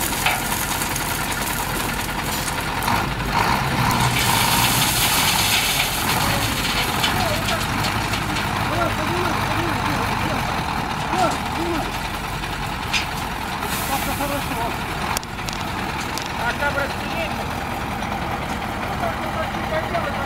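A dump truck delivering crushed stone for a road idles and maneuvers nearby, its engine rumbling steadily under repeated reversing beeps and hissing brakes, with people talking over it.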